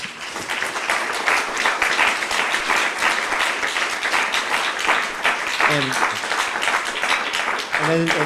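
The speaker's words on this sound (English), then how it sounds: "Please give a large round of applause for our panelists." A forum audience applauds panelists steadily throughout, a dense wash of clapping with a few brief voices rising out of it.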